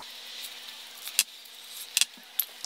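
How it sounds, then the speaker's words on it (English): Bolts on a Mazdaspeed engine's connecting rods being removed, giving a few sharp metallic clicks and clinks spaced apart over a quiet room hiss. "So I'm just gonna take out all the bolts quickly."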